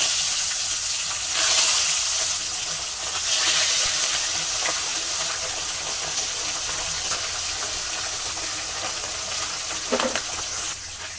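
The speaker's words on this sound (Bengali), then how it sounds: "তো আর যে মাছগুলো আছে সেগুলো আমি ভেজে নেব।" Pabda fish frying in a pan sizzle steadily and close for several seconds, with a few louder bursts of spatter as pieces shift and a sharp clink near the end.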